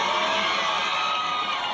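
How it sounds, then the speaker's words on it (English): A crowd cheering and whooping in a dense, continuous roar of voices that stays loud and even throughout. "And the crowd goes wild."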